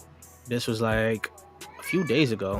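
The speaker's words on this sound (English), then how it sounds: "That's a cat." A cat meows twice nearby, drawn-out wavering calls heard under someone talking.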